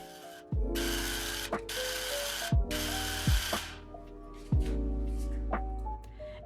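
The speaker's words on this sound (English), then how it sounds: "right now, that looks like sanding down these 2 interior shelves" A power sander whirs loudly on wood in several long bursts, stopping and restarting between passes, with clunks and thumps as the tool is set down.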